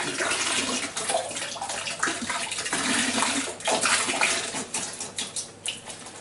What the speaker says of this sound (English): Chuck in the last litre of apple juice, what's left of it.